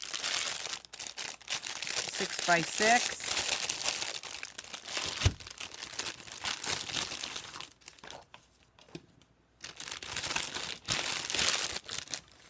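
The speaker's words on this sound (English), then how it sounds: "I'm just going to bring in a full sheet of this paper" A full sheet of cardstock paper is handled on a crafting table, giving repeated crinkling and rustling sounds of varied loudness with brief pauses, close to the microphone and not under talk.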